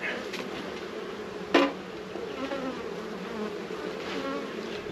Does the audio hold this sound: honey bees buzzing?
yes